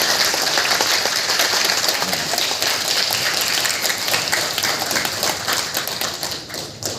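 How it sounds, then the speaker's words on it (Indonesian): Lively, sustained applause from a large audience at the closing ceremony of a language and literature festival, a dense wash of clapping that fades slightly toward the end. "Boleh tepuk tangan yang meriah,"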